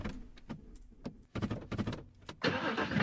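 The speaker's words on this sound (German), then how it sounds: "Ah, jetzt springt er wieder an. Der hat die ganze Zeit gelaufen. Boah, ist das Auto laut." Car engine in a dating-simulator video game cranks and catches, with a few sharp mechanical bursts before settling into a loud, steady running roar near the end; no talking.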